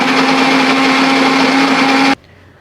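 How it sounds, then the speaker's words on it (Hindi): A loud electric kitchen mixer-grinder blending coffee with water whirs steadily at high speed for about two seconds, then cuts off abruptly into quiet. "हमने इसको मिक्सी में अच्छी तरह से मिक्स करेंगे, ग्राइंड करेंगे"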